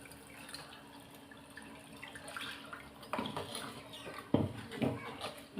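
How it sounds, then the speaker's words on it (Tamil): Tamarind water is poured into a pan of hot oil for a roasted brinjal kara kuzhambu, giving soft splashing and dribbling bursts that grow louder and choppier in the second half. "இப்போ நான் புளியை ஊற்ற போகிறேன்."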